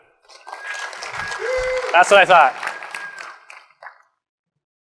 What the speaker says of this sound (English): Round of applause for after.